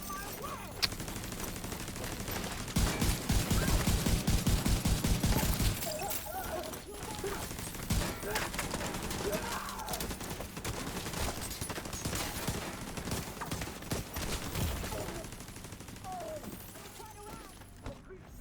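Gunfire in The Division 2, a rapid automatic burst followed by scattered loud shots and continuous battle noise, close and dense, with a voice speaking over it.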